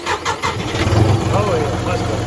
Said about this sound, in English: As you can tell, tractor cranks up good now